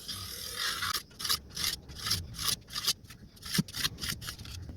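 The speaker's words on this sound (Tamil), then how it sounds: "இப்போ இதே போல் ஃபுல்லாகவே வந்து சின்ன சின்ன துண்டுகளாக கட் பண்ணி எடுத்துப்போம்." Soft rose milk jelly being cut into small pieces with a knife, giving a series of short, close scraping and tapping strokes against a board in an irregular rhythm, with no talking.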